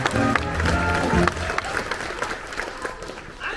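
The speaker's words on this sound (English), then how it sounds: "Hey, give our jokesters a round of applause." Live audience applause for a pair of young joke-tellers at a comedy show in a theme park, a loud clapping wash that peaks early then thins into scattered claps with a voice over the top.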